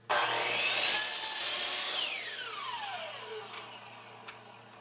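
A power saw cuts through scrap wood pieces for farmhouse decor with a loud, close grinding buzz. The blade then whines down and fades out over several seconds.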